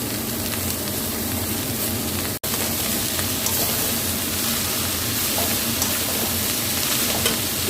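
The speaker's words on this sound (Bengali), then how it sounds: "ভাজা হয়ে গেছে, আমি এবার এই শাকগুলো দিয়ে দিলাম, কুচনো শাকগুলো দিয়ে দিলাম" Chopped red amaranth greens fry with garlic in a pan, giving a steady, close sizzle with stirring scrapes throughout and one sharp momentary break partway through.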